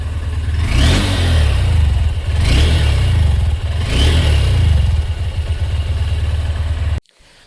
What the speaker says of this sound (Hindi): अब थोड़ा सा रैप करके सुनाता हूँ मैं आप लोगों को